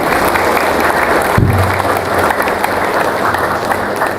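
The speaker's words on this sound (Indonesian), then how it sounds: "Tepuk tangan buat Menteri Agama." An audience at an Islamic lecture bursts into steady, full applause for the Minister of Religious Affairs, a dense crowd of clapping hands sustained throughout, with a brief low thump partway through.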